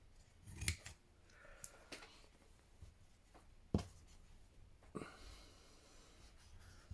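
Scissors snip through green fabric during a hand-stitching project, a few crisp cuts spaced out across the quiet clip, close and soft with no talking.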